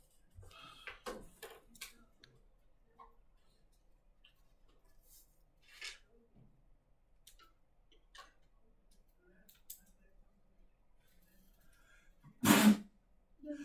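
A single sharp sneeze bursts out near the end of a quiet indoor stretch, preceded by faint clicks and scattered soft sounds.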